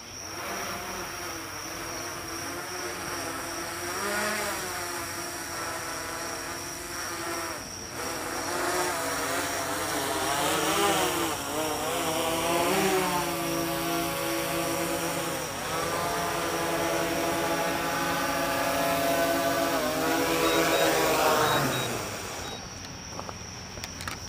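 A DJI Mavic 3 drone whines steadily overhead, its rotor pitch rising and falling in wavering sweeps as it flies and comes in to land, with a constant high buzz throughout.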